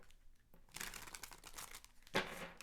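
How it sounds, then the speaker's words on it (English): Tarot cards being shuffled by hand, a close, fairly quiet crinkling and riffling that swells after the first half second and ends in a sharper flurry of card noise. "It's hard to shuffle these without knocking my camera over."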